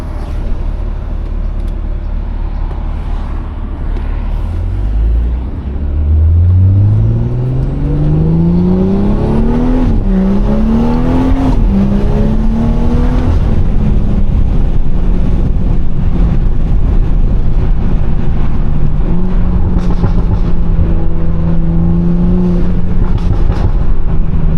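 A BMW 340i engine revs up loudly and holds at high revs, the note rising and falling through several pulls with a steady, close exhaust roar and light burbles.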